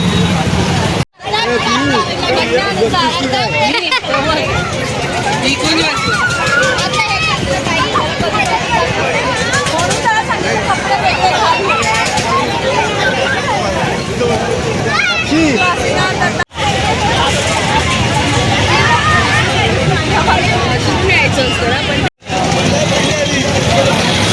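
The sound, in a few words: large crowd at a village fair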